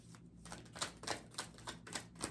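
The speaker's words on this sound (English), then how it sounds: "God, I love shuffling." Tarot cards being shuffled by hand, a quick series of crisp riffling snaps and flutters in a steady rhythm, close and quiet with no voices.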